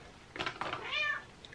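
A cat meows once nearby, a short, clear call that rises and falls and stands alone without speech.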